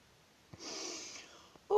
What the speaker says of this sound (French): on souffle le plus longtemps possible par le nez